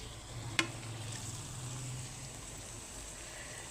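Dishwashing water is poured into hilsa fish frying in oil with mustard and poppy seed paste, making a steady sizzling hiss that runs evenly after one sharp clack.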